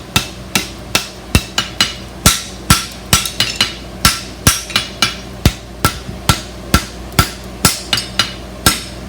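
An aluminum bar is hammered on an anvil to upset it while forging a heartbar horseshoe: about twenty sharp, ringing blows in a steady, close rhythm with short pauses between groups.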